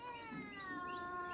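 A domestic cat gives one drawn-out, rising and falling meow, close by and fairly soft, with no voices over it.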